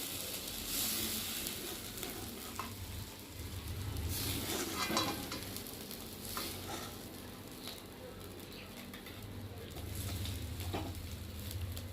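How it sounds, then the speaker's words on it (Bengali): Bot-boti stirred in a pan with sugar gives a steady close sizzle with scraping stir noises throughout, swelling and easing in waves. "আর এখন আমি নাড়িয়ে নেব"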